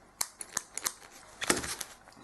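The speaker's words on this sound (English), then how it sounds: "I'm going to take my scissors, I'm going to snip the end" Scissors snip the end of crochet yarn in a run of sharp, close metallic clicks, a few spaced cuts followed by a quick cluster, with no voice over them.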